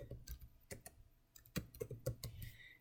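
Keys clacking on a computer keyboard while entering an Excel function, several close, irregular taps in a short burst, fairly quiet, with no talking.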